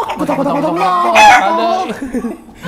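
A chicken kept by a family clucks in a short burst of harmonic squawks, loud and close, with a sharper peak midway through.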